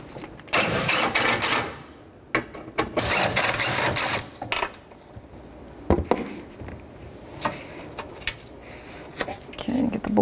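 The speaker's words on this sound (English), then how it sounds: "So 12 millimeter socket, I'm gonna disconnect these two bolts and then two down on the frame rail." A 12 mm socket on a ratchet loosens bolts on a 2006-2012 Toyota RAV4 during starter replacement: bursts of close metallic clicking and clattering separated by short pauses.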